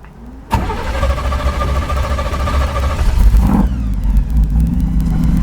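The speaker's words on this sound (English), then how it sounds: "if there's anything like a V8 with a supercharger whine to just make people take notice" A supercharged V8 in a 1933 Ford pickup hot rod cranks briefly, then fires up with a loud burst and settles into a heavy, rumbling idle with a raspy edge. No one speaks.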